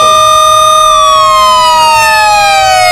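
A loud siren wails very close, its steady tone sliding gradually downward in pitch as it sounds continuously, with no voices.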